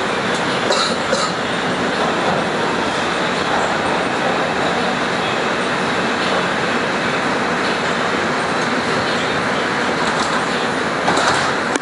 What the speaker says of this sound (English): This is a 34th Street Penn Station bound 2 express train.